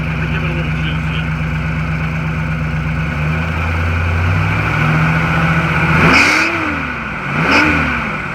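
A 1960 Ford Thunderbird's 352 V8 idles steadily, then is blipped twice near the end, each rev rising loud and close before falling back to idle.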